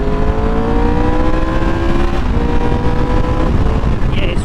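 A motorcycle engine in second gear, likely a BMW S1000XR or Triumph Tiger 1200 Rally Pro, drones steadily with a rising, revving pitch. It sounds close and constant, with wind buffeting over it.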